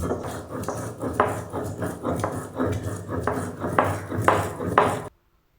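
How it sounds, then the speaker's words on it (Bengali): Poppy seeds and green chillies are ground with a little water for a Bengali rui posto, giving a steady run of rough, rhythmic grinding and knocking strokes, close and fairly loud, that stop abruptly near the end. "সামান্য একটু পানি নিয়ে এবার পোস্ত আর কাঁচা লঙ্কাটা বেটে নিচ্ছি।"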